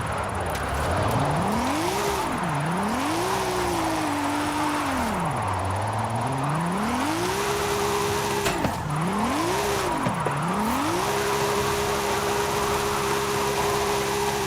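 A Nissan Silvia drifting in Forza Horizon 5 on a steering-wheel setup, its engine note swooping up and down in repeated rev swings and sustained tones, loud and continuous throughout with steady road hiss beneath.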